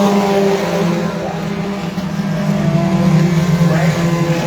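Mooney race cars circling Airborne Speedway, several engines droning together with a steady, fairly loud roar that swells slightly toward the end.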